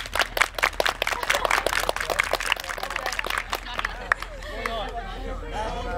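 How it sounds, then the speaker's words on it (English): Marching band members at a morning band camp session clap their hands together, a rapid burst of sharp, close claps for about four seconds that then fades out as voices and chatter take over. "clap your hands"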